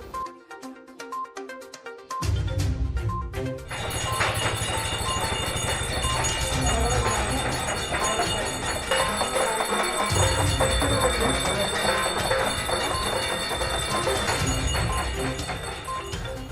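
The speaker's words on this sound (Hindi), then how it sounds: "आज व्यापारियों ने घंटी और थालियां बजाकर अपने गुस्से का इजहार किया" Traders in Pithoragarh protest by ringing bells and banging metal plates, a dense, loud, continuous metallic clatter and clang that starts after a quieter opening couple of seconds and carries on steadily throughout.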